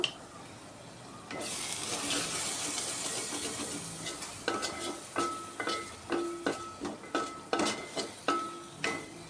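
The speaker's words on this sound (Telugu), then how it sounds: "పచ్చిమిర్చి కూడా వేసేసాను" Green chilies fry in a pan for a bottle gourd fish curry with a steady sizzle, then a spoon scrapes and clinks against the pan in a quick, rhythmic stirring pattern close by.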